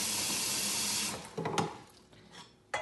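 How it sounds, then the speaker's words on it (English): Tap water runs into a cooking pot for macaroni and cheese, a steady rushing stream for about a second before it stops and leaves scattered clinks and splashes. "so you take your pot and you fill it up almost to the top"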